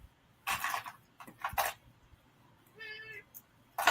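A house cat waiting to be fed gives one short, clear, tonal meow amid bursts of rustling and handling noise, all fairly close, with no talking.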